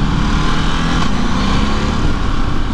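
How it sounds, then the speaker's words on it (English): A Ducati DesertX adventure motorcycle's twin-cylinder engine runs steadily and loudly up close, a continuous rough mechanical drone with no speech over it. "the noise it makes is lovely"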